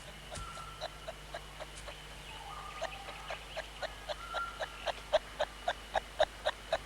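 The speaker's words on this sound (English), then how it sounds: "He follows protocol by clucking his greeting." A male kangaroo in the Australian bush gives a run of soft, repeated clucks as a greeting, rhythmic short pulses that grow louder and more regular toward the end, with faint outdoor ambience and no talking.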